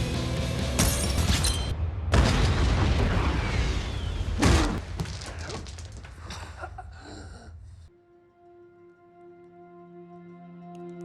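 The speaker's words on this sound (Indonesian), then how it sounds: "Hatch langsung berjalan menuju Julian dan meledakkan tepat di depan mukanya" A bomb stuck to bulletproof glass goes off in a film scene, a loud blast and crashing debris with a rumbling tail, then a sharp burst, followed by a low sustained musical tone.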